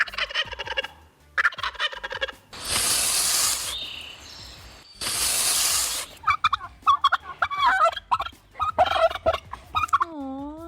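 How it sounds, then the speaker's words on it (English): An angry goose on a golf course hisses in two long, loud bursts, framed by goose honks and gobbling calls before and after, close and unaccompanied by talk. "That's that goose hiss that nobody wants to hear."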